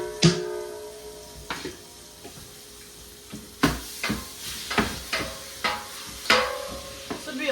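Ground beef browning in a pan for home canning: a continuous soft sizzle broken by repeated scraping and knocking strokes from a stirring utensil, close and moderately loud.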